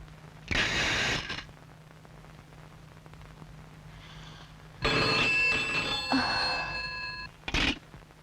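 An old-style telephone bell rings in two long, loud bursts separated by a quiet gap, followed by a short final ring, heard close with faint background noise.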